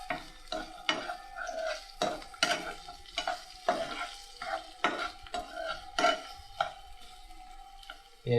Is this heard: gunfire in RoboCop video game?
no